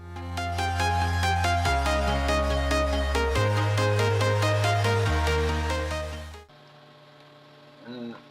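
A steady electric hum drones loudly with shifting tones, like a small motor straining under load, then drops to a quieter whine before a brief rise.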